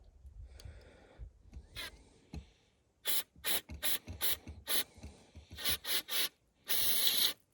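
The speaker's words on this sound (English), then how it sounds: "I'm just going to hose out the barrel." Carb choke cleaner is sprayed from a nozzle through an air gun barrel in short hissing bursts, about a dozen quick close blasts, with one longer spray near the end, after a quieter stretch of faint handling.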